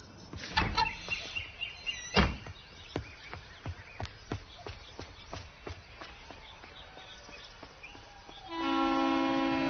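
A train at a busy station clanks past in a steady run of rhythmic wheel knocks over low rumble, then a loud sustained horn blares near the end.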